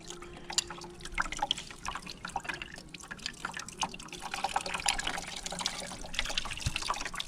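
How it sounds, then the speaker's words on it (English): Coolant drains from the radiator of a 2005 V MAX motorcycle, a continuous faint trickle with irregular drips and splashes landing close by, steady throughout with no one speaking. "you can definitely see it's draining the radiator now."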